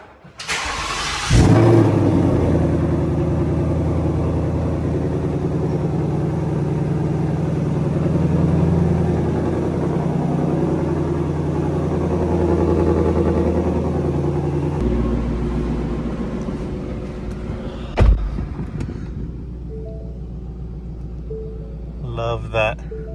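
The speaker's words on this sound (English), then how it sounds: "Let's get a little cold start with the valves closed." A Ford Mustang Mach 1 cold-starts with its exhaust valves closed, giving a sharp crank and catch followed by a loud, steady, rumbling high idle that settles lower near the end, with a few brief knocks and clicks.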